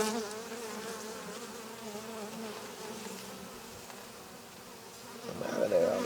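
Honey bees buzz around a beehive during spring cleaning, a steady close droning hum that swells louder near the end.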